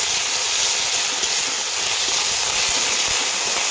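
A loud, steady hiss of whole spices frying in hot oil, continuous and close, with no voices.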